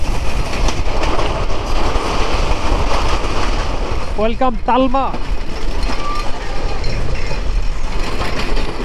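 The Sundarban Express pulls out of Talma railway station with a loud, continuous rumble and clatter of wheels on track, a horn sounding briefly midway and a voice speaking over the noise.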